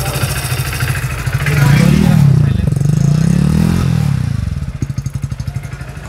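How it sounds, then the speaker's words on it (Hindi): A Hero Splendor Plus BS6 2023 Xtec motorcycle idling up close, its single-cylinder engine thumping steadily, swelling louder in the middle, then settling into a distinct rhythmic putter toward the end. "अब बाइक स्टार्ट है तो मैं आपको जो एक बार इंजन की आवाज़ भी चेक करा देता हूँ।"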